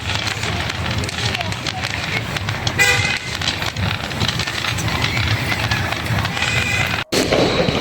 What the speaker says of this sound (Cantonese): 呢條流陽河 係流陽省 特許放煙花嘅場地